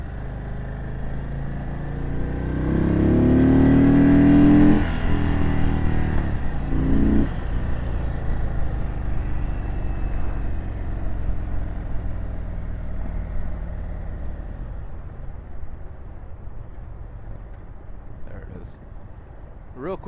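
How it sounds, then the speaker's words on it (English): Indian Chief Darkhorse 116 motorcycle, a 2022 model, revs hard in sport mode with a loud rising engine roar that peaks and drops, then settles into a softer, steady engine hum under wind noise, with a rider talking. "you can hear that bike coming alive"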